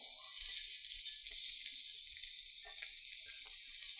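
Prosciutto-wrapped shrimp sizzle steadily on a grill greased with cooking spray, a soft, even frying hiss with faint crackles that runs alone without a break.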